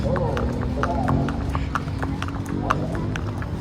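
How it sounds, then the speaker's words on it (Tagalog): A horse walking slowly on a Baguio outing, its hooves clip-clopping in a steady, unhurried rhythm, close by, with people talking over the hoofbeats. "Medyo mabagal lang tong kabayo na to kasi hindi ko alam kung paano siya papabilisin."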